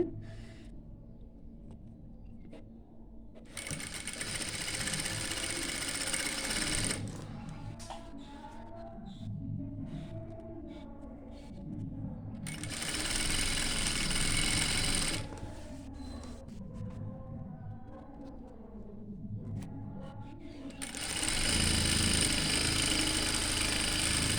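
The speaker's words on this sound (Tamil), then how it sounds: "இந்த இடத்துல வந்து பார்த்து பொறுமையாக தைக்கணும்" Sewing machine stitching the folded hem of an inskirt, running in three sustained loud bursts separated by quieter pauses with handling noise, close by.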